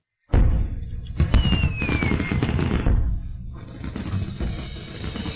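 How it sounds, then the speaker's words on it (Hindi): Fireworks burst loudly in a rapid, crackling barrage after a sudden start, with a whistling rocket streak and continuous popping that fades slightly. "डरो मत, यह खूबसूरत आतिशबाजी है।"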